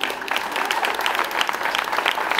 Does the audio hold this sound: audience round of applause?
yes